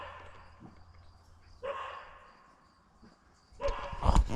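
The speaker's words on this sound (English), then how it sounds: "Dogs are barking at something out there." Dogs barking outdoors in the woods, distant and faint at first, with a louder close burst of barks near the end against a quiet background with insects.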